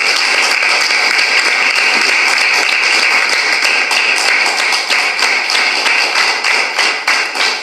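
Loud, dense applause fills a yoga camp gathering, a steady wash of many hands clapping without a break, thinning slightly toward the end.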